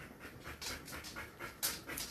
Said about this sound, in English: my dog, I'm sure you guys can hear her panting like crazy